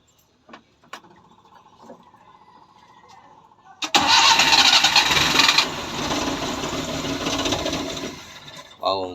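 A car engine cranks and fires up after an ignition coil repair, bursting into a loud, rough run that settles into a steady idle, following a faint ticking and brief talk beforehand.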